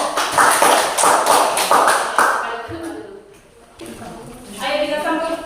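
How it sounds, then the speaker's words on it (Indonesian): Classroom applause for student groups after their presentations; a short burst of close, brisk clapping from a small group fades out, followed by shuffling and talk. "kita tepuk tangan untuk dua kelompok"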